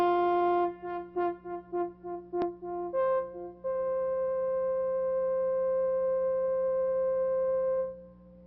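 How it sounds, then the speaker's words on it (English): Synthesizer brass patch made flute-like by lowering the filter envelope amount: a run of short detached notes, then longer held tones with a softer, pure timbre, clean and alone. "We can change the brass sound into a flute-like sound by lowering the amount of envelope"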